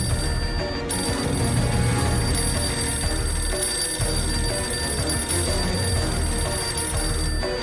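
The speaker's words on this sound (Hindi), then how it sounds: "तभी फिर से बजी फोन की घंटी।" A telephone bell rings continuously over a dense, steady bed of background music.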